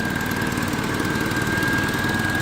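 A Suzuki G13B car engine runs at a steady idle, a continuous rumbling drone with a faint high whine riding on top, close and unchanging throughout.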